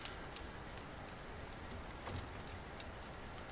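Rain pouring down outside during a winter spell in a zombie survival video game, a dense steady hiss of drops with scattered light ticks and patters, continuous and fairly quiet, no talk.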